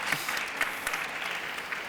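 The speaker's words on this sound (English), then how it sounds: "We can applaud that." Audience applause at a youth expo panel discussion, a faint, brief patter of scattered clapping in a hall, quiet and somewhat distant.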